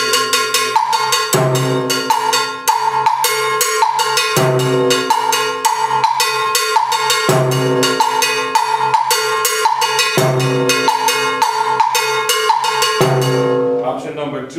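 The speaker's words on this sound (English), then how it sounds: "I'm leaving some of the notes out on the bell" A timbales bell pattern is played loud and close with some notes deliberately left out, mixed with drum hits in a steady, syncopated groove. Nobody speaks, and the playing trails off at the end.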